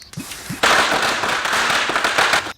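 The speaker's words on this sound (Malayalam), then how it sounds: "ദീപാവലിയല്ല, പടക്കം പൊട്ടിക്കുന്നതാ" Firecrackers set off by children in a residential colony: two small pops, then a loud sustained crackling burst of rapid bangs that runs on for about two seconds, fairly close.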